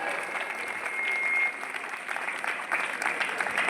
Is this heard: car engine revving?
no